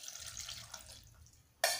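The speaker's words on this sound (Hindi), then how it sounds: "थोड़ा पानी डालेंगे इसमें हम" Cold water is poured into chilled cream in a bowl for homemade butter: a quiet hiss, then a short, clear splash of pouring water at the very end.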